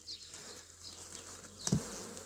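Honeybees hum faintly and steadily around an open hive during an inspection of ten frames, the soft buzz broken by one brief louder knock or bump near the end.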